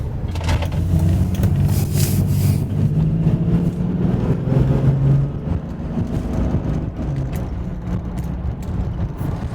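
Toyota Supra Turbo, long undriven, rolling off with its engine droning and revving, a loud continuous interior rumble that rises in pitch, eases back, then settles into a steady cruise with no talk.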